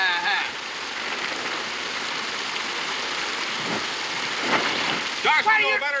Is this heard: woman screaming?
no